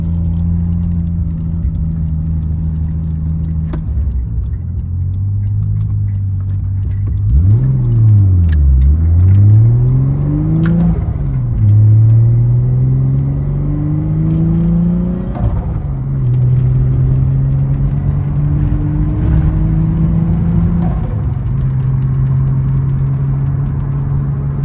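Turbocharged RB30 engine in a Nissan S14 with a misfire, idling roughly and then revving up and down in a few loud, uneven sweeps before settling back to a lumpy idle, heard close with no talk.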